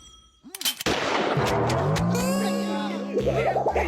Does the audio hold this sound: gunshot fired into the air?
yes